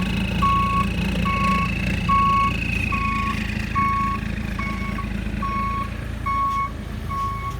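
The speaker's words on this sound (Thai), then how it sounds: "ดูเสียงถอย" Steady electronic reversing beeps, about a dozen evenly spaced tones, over the rumbling idle of a large six-wheel dump truck engine.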